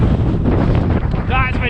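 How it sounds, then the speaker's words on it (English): Wind buffets an action camera's microphone while riding along a road, a loud, continuous low rumbling roar, with a brief voice breaking through near the end. "that's windy."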